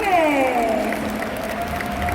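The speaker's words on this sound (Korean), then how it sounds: "우리 리더님들에게 뜨거운 박수를 한번 더 부탁드립니다" Applause from the audience at a USANA 2020 kickoff event, a steady wash of clapping heard over a raised voice through most of the clip.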